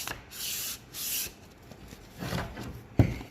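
Sandpaper is rubbed by hand along the edge of a resin piece to bevel it, in a few short rasping strokes with pauses between, close and fairly quiet, ending in a small knock.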